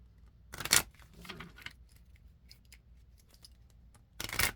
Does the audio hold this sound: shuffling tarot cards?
yes